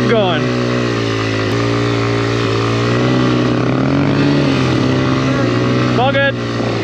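A Honda XR100R dirt bike rides through snow, its single-cylinder engine droning loud and near with brief revs at the start and end, while a voice talks over it.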